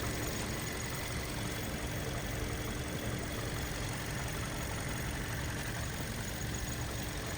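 The 2.0-litre engine of a 2019 Kia Optima with automatic transmission idles. It gives a faint, steady hum with an even hiss and no changes in revs.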